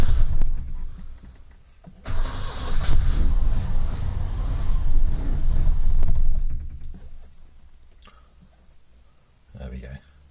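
A 1970 Lancia Flavia engine, just refitted and fed fuel through the open carburettor, turns over and catches, then runs with a loud, rough, clattering roar for several seconds before dropping to a quieter idle with a brief burst near the end.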